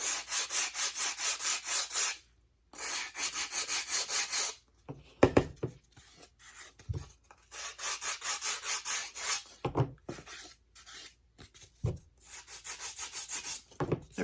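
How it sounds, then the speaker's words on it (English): Wooden sanding block rubbed along the leading edge of a Tornado Updraft 12 model glider wing, steady back-and-forth scraping strokes in bursts with short pauses, close and fairly loud, no talking. "Again, the sanding block is perpendicular to the wing."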